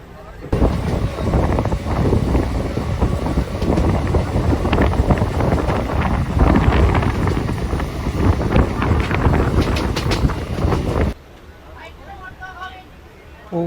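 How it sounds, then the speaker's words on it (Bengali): An EMU local train runs steadily through a gentle curve, a loud, continuous rumble and rush with wind buffeting the microphone, ending abruptly into a quieter interior near the close. "এখান থেকে ট্রেনটা কাপ নেবে হালকা এই কাপটা দেখুন"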